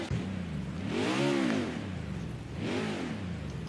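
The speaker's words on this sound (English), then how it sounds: "Let me fire up the engine." A stock car engine in NASCAR Heat 5 revs up twice on pit road at Iowa, rising and falling in pitch each time, close and steady with no talk.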